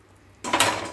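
A spoonful of mashed moong dal drops into a cooking pot with a brief, close, wet clatter against the metal, followed by a little scraping.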